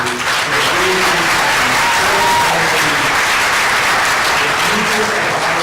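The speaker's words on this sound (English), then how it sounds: "We'll give you a round of applause and we congratulate you" Audience applause at an 8th grade advancement ceremony, loud and sustained from a large crowd of families, steady dense clapping throughout with a few faint voices mixed in.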